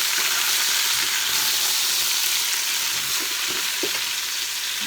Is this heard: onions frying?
yes